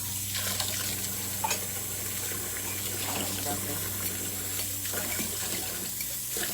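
Tap water runs steadily into a sink while plates are washed, a constant close splashing stream with faint clinks throughout.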